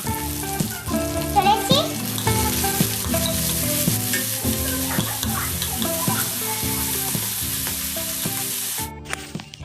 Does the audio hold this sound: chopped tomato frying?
yes